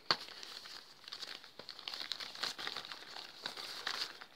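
A parcel holding squishy toys is opened by hand, its wrapping giving soft, close crinkles and crackles in irregular bursts throughout, fairly quiet and with no talking.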